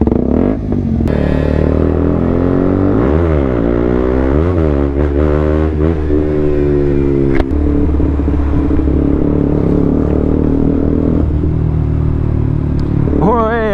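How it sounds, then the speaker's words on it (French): A small geared scooter engine revs up and down repeatedly with rising and falling pitch, running close and loud throughout, with rattles and some talk mixed in. "Non, c'est un scooter à vitesse."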